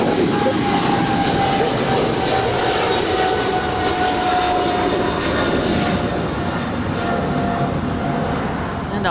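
An American Airlines heavy jet departing LAX for London Heathrow: a loud, continuous broadband engine roar that holds steady and fades slightly toward the end, with faint voices beneath it.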